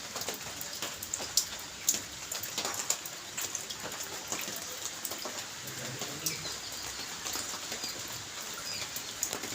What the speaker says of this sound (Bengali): দেখবে কিরকম বৃষ্টি পড়ছে।